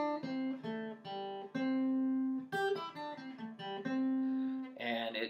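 Clean electric guitar picks a riff as a quick run of single notes on the third string with pull-offs, clear and close with no voice over it.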